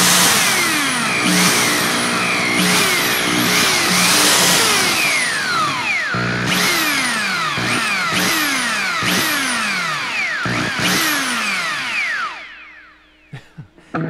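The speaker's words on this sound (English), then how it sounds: "But when you put your drill up to your pickup, it'll sound like this." Whining tones of a wired electric drill held to a guitar pickup, with repeated swooping pitch sweeps and sharp cutoffs, loud and distorted, fading out near the end.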